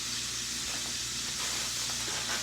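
Beef and broccoli cooking in a covered pan give off a steady, soft hiss of steam with faint sizzling, alone and fairly quiet.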